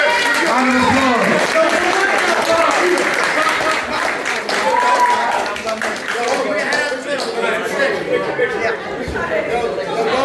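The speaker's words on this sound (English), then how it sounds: "Round of applause." A crowd applauds after a boxing sparring match, with sustained clapping that blends with lively chatter and voices talking over it, the clapping staying loud and close for several seconds.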